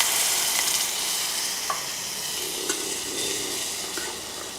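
A spoon stirs sugar into water in a pan while making dhokla, giving a soft continuous swishing with a few light clinks against the pan and no talking.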